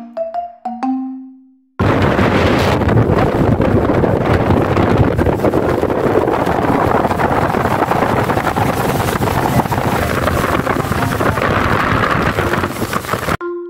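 Strong sea wind roars into the microphone aboard a fast-moving boat near Laiya, San Juan, a loud, continuous buffeting rush that begins abruptly after a brief faint voice and tone.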